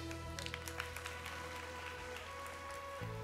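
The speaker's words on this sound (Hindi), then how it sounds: "बहुत सारी तालियां प्रोफेसर डॉक्टर फजल साहब के लिए" A studio audience applauds Professor Dr Fazal on a Ramadan iftar TV show: a soft, steady patter of clapping over a low musical bed that lasts about three seconds.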